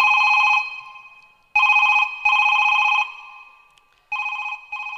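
A telephone bell rings in repeated electronic trilling bursts, loud and clear, with short silences between rings and no talk.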